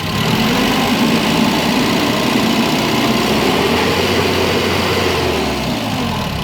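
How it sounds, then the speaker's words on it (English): A forklift engine runs loud and close with a steady mechanical drone, its pitch rising slightly as the throttle is pressed, no talking. "So I'm going to hit the gas now."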